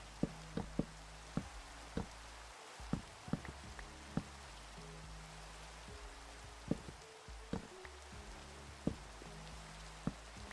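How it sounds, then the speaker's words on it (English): Rain falls in Minecraft as a soft, steady hiss with sharp knock-like taps scattered through it, alongside faint game tones, with no talking. "Oh, it's raining."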